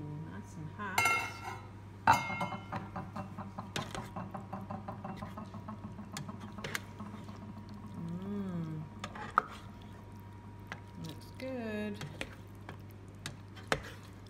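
A pot is uncovered, giving a series of light, faint clinks and ticks of metal and glass in a quiet room. Soft voices murmur intermittently.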